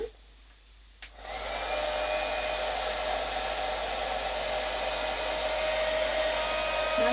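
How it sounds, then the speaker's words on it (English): Heat gun switched on after about a second of quiet, then a steady, loud blowing whir drying a damp embossed craft piece, running continuously with a faint tonal whine and no talking. "Now I just need to dry this. It's a little bit damp, so let's get our gun."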